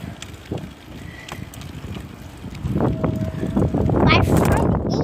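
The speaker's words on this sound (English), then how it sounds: "I am moving very fast because I'm on my bike" Loud, blustery wind roaring over a microphone while riding a bicycle fast, building in the second half with rumbling buffeting and rushing air.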